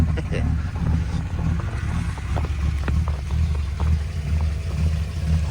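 A Plymouth Belvedere engine starting cold in the snow after new points are fitted, settling into a steady low rumbling idle with gusts of wind noise over it.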